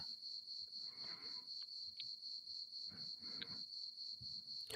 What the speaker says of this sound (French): La présence des cigales toujours bien cachées.